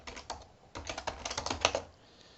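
Quick bursts of keys clatter on a computer keyboard, close and fairly quiet, irregular with short pauses, picking up into a faster run of taps before trailing off.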